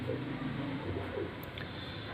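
A pigeon coos in low, soft, repeated notes that run steadily through the whole stretch, fairly close, over a constant background hiss.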